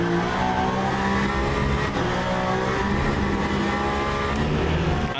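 Race car engine in a racing video game, revving hard and climbing through gears with short shifts, loud and continuous with the whine of passing cars and a brief tire squeal.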